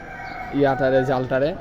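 A rooster crows once, loud and close, a rising then falling cock-a-doodle-doo against quiet background.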